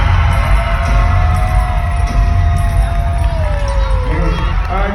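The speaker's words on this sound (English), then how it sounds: "So without further ado, a loud round of applause for Miss Archer." A crowd at a school home-game gathering cheers and shouts loudly and steadily, a dense, close wall of voices that holds for about five seconds.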